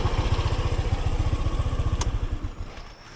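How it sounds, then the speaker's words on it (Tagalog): A motorcycle engine runs close by with a steady, throbbing putter that eases and fades toward the end, joined by a brief sharp click midway. "Ang bigat ng motor ko oh."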